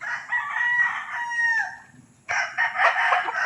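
A gamecock rooster in a backyard crows loudly and close, one full drawn-out call followed by the start of a second crow after a short pause.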